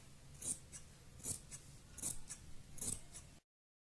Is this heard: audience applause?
no